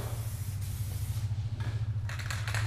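Spray gun laying paint onto a Porsche 944 rally car body in a budget home paint job, a steady close hiss running throughout over a low constant hum, with brief louder bursts toward the end.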